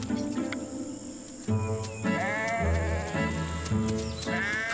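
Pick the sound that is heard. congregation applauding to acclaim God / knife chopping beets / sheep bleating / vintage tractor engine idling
sheep bleating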